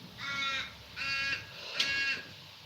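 Three loud, harsh caws from birds close by outdoors, evenly spaced about a second apart, each a raspy drawn-out call with nothing else around it.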